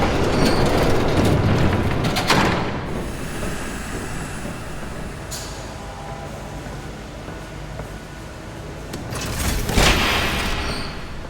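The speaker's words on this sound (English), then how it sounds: "There's a train coming. Take cover." A train rolls past in the Batman Telltale Series video game, a loud rumbling wash with rail clatter that swells at the start, eases through the middle and surges again near the end, with no voices.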